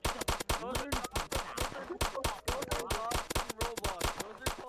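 Rapid, sharp blasts from Gaster Blasters fire in an Undertale-style Roblox boss fight, a dense run of loud, crisp bursts close together, like gunfire, with faint voices underneath.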